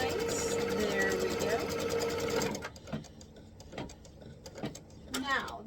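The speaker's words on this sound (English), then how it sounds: "We're going to stitch this into place" A sewing machine stitches a quilt block piece into place in a fast, steady whir of about two and a half seconds, then stops while a person talks over light handling clicks.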